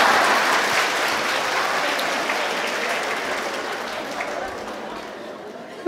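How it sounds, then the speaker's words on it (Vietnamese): Sustained applause from a church congregation, dense and steady clapping that gradually thins out toward the end. "Cho mấy cái ảnh mát ra một tràng pháo tay đi."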